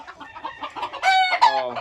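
A Kelso gamefowl rooster in a pen clucks in a quick series of short, close notes, then breaks into louder, drawn-out calls toward the end.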